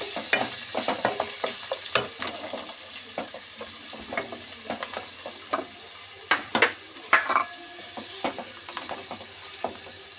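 Green chillies and sliced onion fry in a pan for tomato rice, giving a soft continuous sizzle with frequent sharp scrapes and taps as a utensil stirs them close up.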